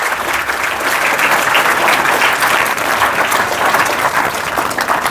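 Loud, dense audience applause at a school AI awareness seminar, many hands clapping continuously and evenly for several seconds with no talk over it.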